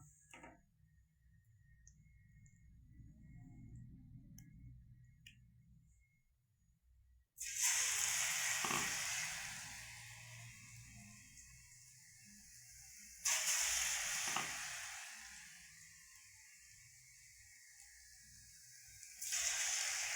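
Batter-coated soya chunk balls drop into hot oil in three separate bursts, each a sudden loud sizzle that hisses strongly and slowly fades, with quiet gaps between.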